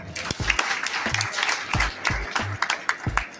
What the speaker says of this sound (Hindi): इन लोगों के लिए तालियां हो जाए